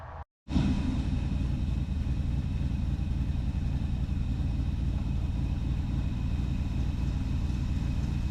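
A 1976 Ford Ranchero 500 fitted with a big camshaft idles loudly and steadily after starting, its deep, lumpy rumble continuing close and alone without pause.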